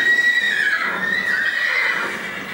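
An Arabian horse whinnies loudly inside a stable, a long shrill neigh that wavers and slowly fades, heard close and alone with no talk.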